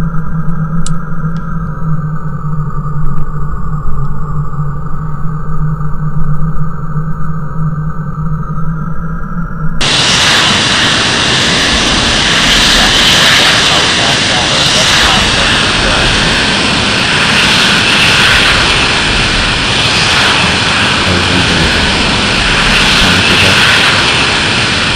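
An F-16C fighter jet in the Falcon 4 flight simulator rolls out of its hangar, a steady engine drone at first, then a sudden jump to a loud, broad jet roar and whine that holds for the rest of the clip.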